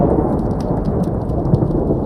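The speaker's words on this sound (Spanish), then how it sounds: "se escuchó el poderoso sonido de un trueno" A deep, powerful thunderclap rolling under steady rain, with a continuous low rumble and scattered patters of drops on surfaces, loud and sustained with no voices.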